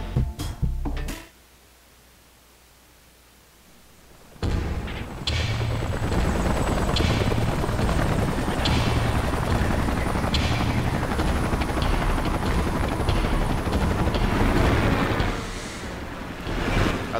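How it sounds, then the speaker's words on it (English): Salvage helicopters in the video game Xenoblade Chronicles X, a loud steady thudding rotor roar with wind-like rushing that starts abruptly after a short quiet gap and holds close for over ten seconds. "Let's call in the salvage choppers and get it out of here."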